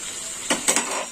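Coriander powder added to a well-fried spice masala in a pan while cooking Malabar spinach chorchori, giving a few soft scraping and clinking stir sounds over a faint steady sizzle, close and fairly quiet.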